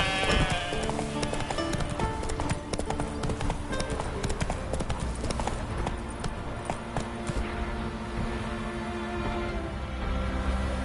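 Roach, the horse in the video game The Witcher 3, clip-clops along in a steady, continuous rhythm of hoofbeats over a bed of background music, with no voices.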